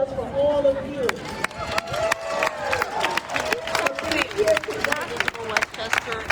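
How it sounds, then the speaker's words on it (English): Scattered claps and cheers rise from an outdoor crowd at a women's march in White Plains, with sharp individual hand claps over a babble of voices and people talking throughout. "Let's have a round of applause for all of you."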